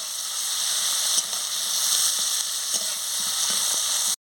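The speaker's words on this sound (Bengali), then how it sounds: "পেঁয়াজ কুচিটা দিয়ে দিচ্ছি। ভালো করে আমি ভেজে নিচ্ছি।" Chopped onion frying in a pan for a Bengali pui shak and prawn chorchori, a steady close sizzle with light stirring scrapes, stopping abruptly at the end.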